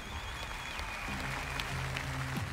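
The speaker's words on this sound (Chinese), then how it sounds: "掌声鼓励一下" Studio audience applause on the Chinese TV competition show The Brain (Season 4), a steady dense wash of clapping heard throughout this short moment, with faint tones in the background.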